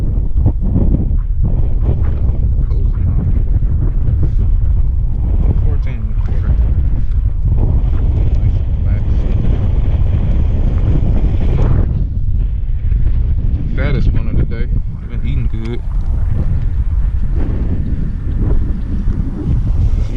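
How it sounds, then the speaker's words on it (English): Steady wind buffets the microphone in a lake cove while fishing from a kayak, a loud continuous roar with gusts and some water sounds throughout. "this little cove got a wind pocket going on"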